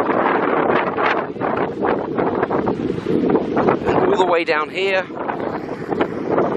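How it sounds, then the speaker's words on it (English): Strong wind buffets the microphone on a beach in North Pattaya, roaring loud and constant while someone speaks briefly over the gusty rumble. "But it is windy."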